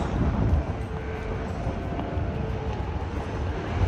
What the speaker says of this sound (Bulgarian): Духа много силен вятър и ме клачи супер много.